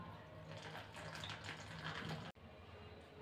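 A small amount of water trickles into a potato lollipop mixture of maida flour and salt, making a short, quiet pour that stops abruptly.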